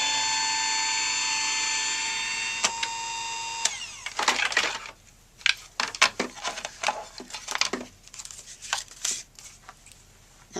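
Genius Ultimate Platform craft machine running an embossing pass: a steady high motor whine for a few seconds, then a series of sharp clicks, cranks and rattling knocks, close up with no talking.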